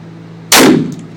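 A single gunshot cracks sharply and close, loud against a quiet background hum, with a brief decaying tail afterward.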